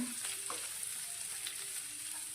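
Chopped onion fries in a pan, giving a faint, steady sizzle and crackle with a few soft stirring clicks, close by and without talk.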